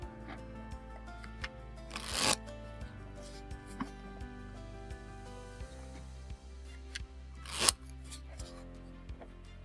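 Playing cards are shuffled for a blackjack deal, two loud riffling bursts a few seconds apart standing out over quiet rhythmic background music, with soft card handling in between.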